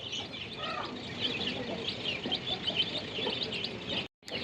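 Chicks and hens cluck and cheep on a small farm, a continuous chorus of calls close by that cuts off abruptly near the end.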